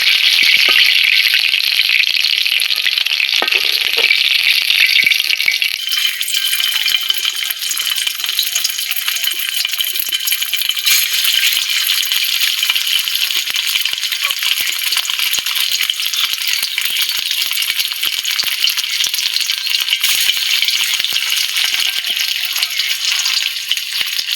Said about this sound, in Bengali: এখন এই যে কাবাবটা লাল লাল করে ভাজা হয়ে গেছে